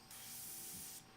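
An airbrush sprays paint with its needle not seated right, giving one steady, faint hiss lasting about a second with soft air noise before and after.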